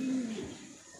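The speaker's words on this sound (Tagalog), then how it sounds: "may bigla nang sumulpot yung ating mga ibon" A racing pigeon gives a single brief coo, close and soft, as the birds arrive at the loft during a training flight in Gumaca, Quezon.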